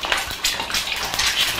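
Eggs sizzle and crackle steadily in hot frying oil, a continuous close hiss with brief spattering pops throughout.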